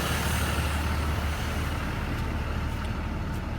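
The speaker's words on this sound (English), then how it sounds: "there's the governor kicking out" A school bus air brake compressor governor kicks out during a Florida pretrip inspection, a steady loud engine and compressor roar with a few faint clicks toward the end.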